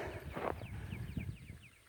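A horse on a farm with old horse-drawn equipment clip-clops in a few uneven hoof steps nearby, mixed with soft shuffling and a faint bird chirping in the background.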